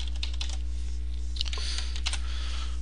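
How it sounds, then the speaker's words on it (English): Steady clicking keystrokes from text being typed on a computer keyboard, coming in short irregular bursts with brief pauses over a constant electrical hum, close and moderately quiet, with no talking. "I can type in my text here."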